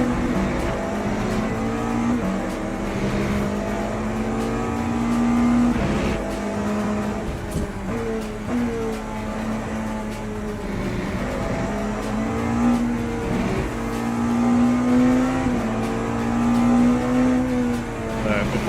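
GT race cars roar down a straight in the Le Mans Ultimate sim, a sustained engine drone with shifting pitch and several gear changes, steady and moderately loud, with occasional faint talk underneath.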